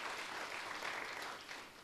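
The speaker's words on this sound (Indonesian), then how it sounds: "Tepuk tangan yang meriah bagi Tuhan." A congregation applauds during a fasting prayer service at a church in Malang, a steady wash of clapping from many hands throughout a brief stretch, moderately distant.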